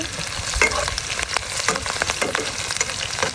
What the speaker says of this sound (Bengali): তেল গরম হয়ে গেছে এখন আমি পেঁয়াজ কুচি আর মরিচ কুচিটা দিয়ে দিব এবার আমি একটু নেড়ে নিচ্ছি